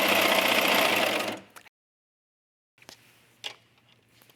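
Sewing machine stitching fabric runs in a fast whirring, rattling burst for just over a second, then stops, followed by a stretch of silence and faint clicks and handling of the machine.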